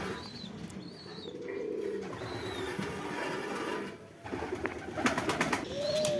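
A breeding pair of pigeons sitting on eggs in a loft in Kolkata give soft, low cooing calls at close range, amid rustling and a few faint chirps from other birds, with no talk.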